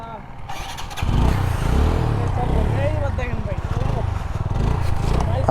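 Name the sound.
Hero Splendor motorcycle engine being started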